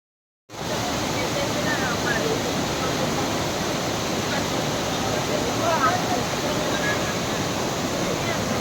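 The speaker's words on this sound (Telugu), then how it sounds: "మనం వెళ్తున్నంతసేపు మనం చుట్టూతా కూడా వాటర్ ఫాల్సే చూస్తూ ఉంటాము" Kothapalli waterfalls near Vizag rushing in a dense, unbroken roar of falling water that starts abruptly and holds steady and loud to the end.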